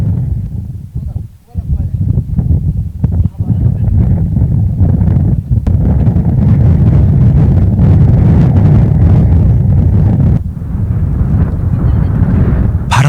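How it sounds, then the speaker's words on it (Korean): Heavy wind buffets the microphone beside a ger on the open steppe, a loud continuous low roar that briefly dips early on, with a voice speaking faintly beneath it. "바람이 워낙 심하게 불어"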